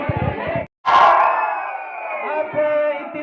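A crowd at a university society election event in Skardu breaks into loud cheering and shouting after a brief cut, sustained and close, with the clapping itself hard to pick out.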